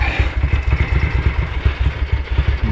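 A Ducati 900SS bevel-twin engine idles very low and uneven, its deep lumpy pulses thudding steadily and close with a little mechanical clatter above.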